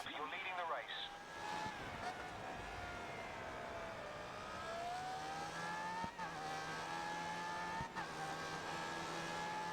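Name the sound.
race car driving in video game GRID Autosport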